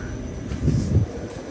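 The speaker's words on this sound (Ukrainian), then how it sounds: "Ось мій потяг." A train at a Paris railway station, with a low continuous rumble of wheels and machinery that swells briefly midway through, close by with no talking.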